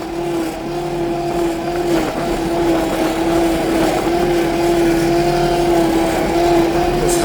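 Cub Cadet Ultima ZT1 zero-turn riding mower engine running steadily while driving over weeds along a path, a loud, close, constant drone with a stable pitch.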